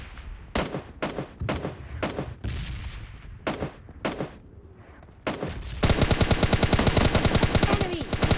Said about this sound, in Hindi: और फिर इस बंदे को M4 से ही मारते हैं